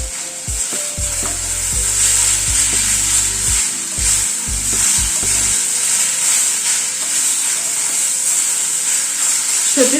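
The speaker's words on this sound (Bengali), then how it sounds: "এবার যে সর্ষেটা বেটে রেখেছিলাম সেটা অ্যাড করে দিচ্ছি।" Ground mustard paste stirred into greens frying in a pan, a strong, steady sizzle under scraping and tapping from a utensil that stops partway through, leaving the hiss to carry on alone.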